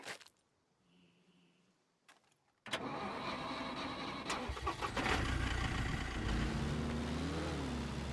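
A car engine cranks and catches in a survival video game after a new battery is installed, then settles into a loud, steady idle with a rising whine near the end, following a few seconds of near silence with faint tones.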